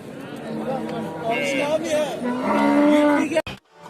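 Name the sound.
cow mooing at livestock market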